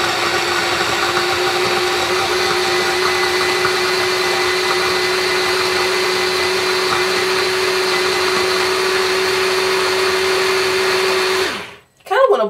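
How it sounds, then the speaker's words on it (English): A blender whirs steadily and loudly as it mixes a moisturizing oil cocktail, running as one continuous motor drone before it cuts off near the end. "Want to blend so there's no more lumps"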